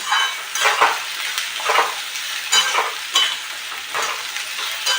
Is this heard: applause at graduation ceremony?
no